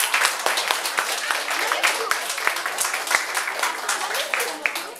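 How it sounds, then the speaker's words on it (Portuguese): Church congregation applauds, a lively round of clapping with distinct sharp claps over a steady patter, with a voice speaking over parts of it. "Vamos aplaudir a Jesus, igreja."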